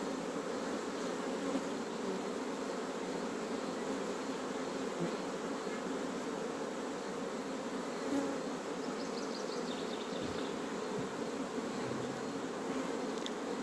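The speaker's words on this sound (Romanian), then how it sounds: "Să cunosc albinele, după cum urcă pe blăniță." Honeybees buzzing steadily around a hive during swarming season, a dense continuous hum close by with no voices, holding level throughout.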